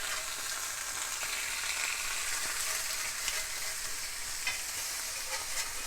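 Salmon searing over medium-high heat in a Lodge cast iron grill pan on a gas stove, giving a constant bright hiss of sizzling oil, steady and close with faint crackles and no voices.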